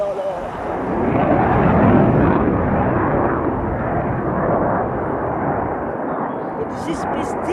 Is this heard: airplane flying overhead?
yes